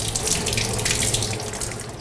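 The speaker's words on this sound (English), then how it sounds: "I'm putting in a little bit of water" Running water splashes steadily as a squid is rinsed under a tap at a sink, a continuous close hiss and gurgle with no talk.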